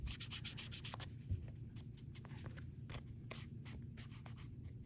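Pen or marker writing a note on a handmade Christmas card made from recycled cards: faint, close scratching strokes in short rhythmic bursts, with no voices.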